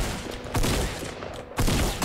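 Loud bursts of player gunfire in Fortnite Battle Royale, two dense volleys of rapid shots separated by a brief lull, close and dominant with no talking over them.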